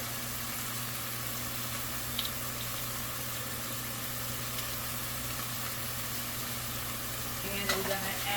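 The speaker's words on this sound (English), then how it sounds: "both of these pots are going to get some garlic" Garlic sizzles in two cooking pots, a steady close frying crackle with a faint stirring scrape near the end and a low background hum.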